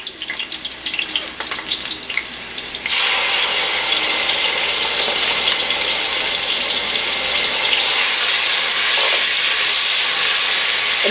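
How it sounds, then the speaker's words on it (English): Tomatoes hit hot oil and frying onions in a pot for Jollof rice, giving a sudden loud burst of sizzling that settles into a steady, close, hissing fry with no talking. "I can already get the smell of the onion, so now we can go ahead and add the tomato"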